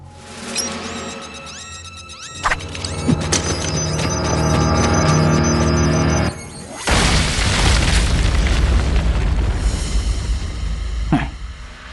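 Cartoon firecrackers and explosions go off in a loud, dense soundtrack. Sharp bangs and pops stand out against a busy mix, with a big sustained blast in the latter half and a final crack near the end.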